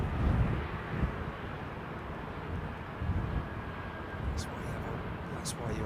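Jet aircraft at London Heathrow Airport, a steady low engine roar and rumble filling the whole stretch, with faint wind noise and a thin whine above it.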